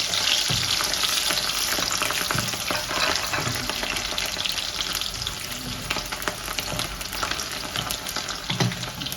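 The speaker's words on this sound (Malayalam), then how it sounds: "അപ്പോൾ വെളുത്തുള്ളി ഒന്ന് അത് നന്നായിട്ട് വഴറ്റുക." Garlic sautés in hot oil with mustard seeds for tomato thokku, a loud, steady close sizzle with frequent little crackles and stirring clicks throughout, and no voices.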